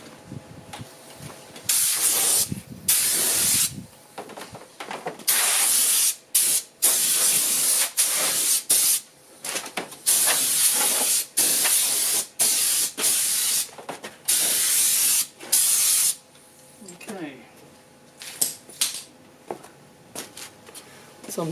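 Bursts of compressed air blow dust off a painted fibreglass surface before priming, loud close hissing blasts that start and stop in repeated spurts over about twenty seconds.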